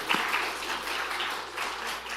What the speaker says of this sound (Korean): 참 축하드리고 우리 박수 한번 치시죠